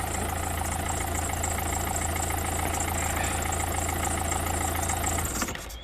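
A first-generation Citroen C5 engine idles with a steady, loud, even drone up close, then cuts off near the end, leaving a brief fade.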